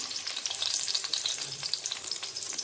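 Sliced onions fry in a spoonful of oil in a pan on the stove, a steady close sizzle with crackling pops throughout, no talking.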